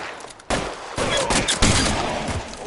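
Pistol gunshots in a video game ring out as several loud, sharp bursts in quick succession over a noisy game backdrop.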